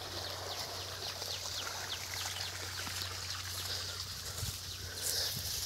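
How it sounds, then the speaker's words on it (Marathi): Irrigation water runs quietly from a pipeline into a small millet plot, a soft steady trickle heard from nearby while birds chirp faintly around it. "सुंदर अशी पाणी चालू आहे."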